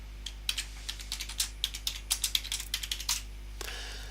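Fingers type on a computer keyboard in a steady run of soft, close key clicks lasting a few seconds, with no voice over it.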